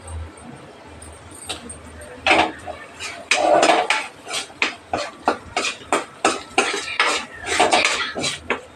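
Turmeric and curry leaves being stirred in a pan for a prawn curry, a spoon scraping and clinking against the metal in a quick, steady run of close, sharp strokes, with no talk.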